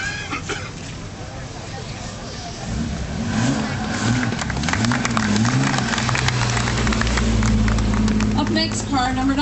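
A rally car accelerates at the start of Targa Newfoundland, its engine rising and revving loudly through rising gear pulls, with a crowd and ambient noise around it.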